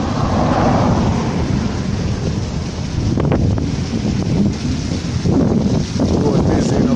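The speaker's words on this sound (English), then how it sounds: "Now this waterfall is heavy at the moment" A heavy waterfall roars as a constant, loud broadband rush. The roar is buffeted by wind on the microphone, and someone speaks briefly over it.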